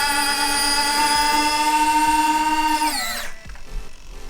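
A steady electric motor whine with a bright harmonic tone drives the retracting gear of a model Boeing 777-9X, loud and close, holding pitch for about three seconds before winding down, followed by small mechanical clicks and thumps.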